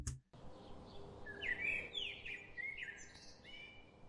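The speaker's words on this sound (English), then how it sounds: "So that's the bird audio." Bird chirping in short bright bursts, a few quick tweets and trills over about three seconds, moderately close over a low steady background hiss.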